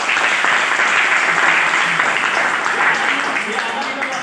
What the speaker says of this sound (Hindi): एक एलोवेरा के लिए सभी जोरदार तालियां बजाएं।